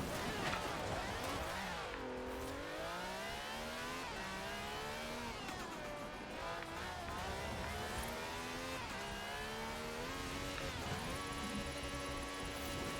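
A car engine in the racing video game Forza revs and accelerates continuously, its pitch climbing and dropping through gear changes and loud throughout, with no pauses.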